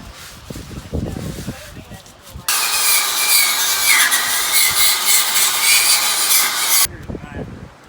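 Loud, steady power-tool sanding of metal bars runs unbroken for about four seconds, with quieter scraping and voices before and after it.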